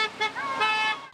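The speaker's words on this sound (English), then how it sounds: "we've been hearing a lot of that honking outside of the Detroit ICE office" Car horns honk outside the Detroit ICE field office during a protest, with sustained, overlapping blasts from several vehicles blaring loudly and close by.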